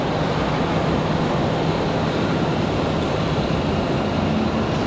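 A Moxie airliner departing Raleigh-Durham for Portsmouth gives off a dense, steady engine roar with a low tonal hum, loud and unbroken for a few seconds.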